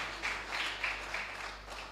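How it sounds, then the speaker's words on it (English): Applause for the governor at a Rotary Club of Abuja Maitama presidential investiture ceremony: a steady, fairly faint wash of many hands clapping at once, continuing throughout without pause. "can you please make that applause for him a lot louder?"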